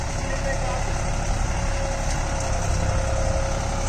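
Deutz-Fahr Agrolux 50 tractor engine pulling a Lemken Opal 90E plough, running at 1500 RPM in low third gear: a loud, constant low diesel drone with a steady mechanical hum throughout.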